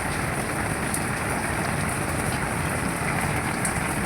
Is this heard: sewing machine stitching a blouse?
no